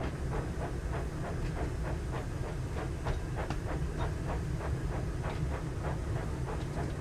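Train Sim World 5 in-game rail scene on the West Somerset Railway, with a Class 08 diesel shunter somewhere nearby: a steady low engine drone and hiss carries throughout, overlaid by a loose rhythm of rattling, clicking wagon noise.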